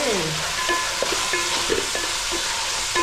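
Beans and onions fry in a pan with a steady soft sizzle, while a spoon stirs and scrapes in quick irregular taps close by.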